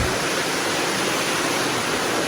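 A waterfall near a cave trail at Tham Phra Sai Ngam roars as a steady, loud, close wash of rushing water that holds unbroken throughout, with no voices.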